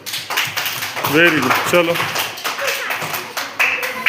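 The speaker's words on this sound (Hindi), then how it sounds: "तालियां बजाओ।" Schoolchildren in an Urdu-medium primary school classroom clap in scattered, uneven bursts, while a teacher's voice speaks over them.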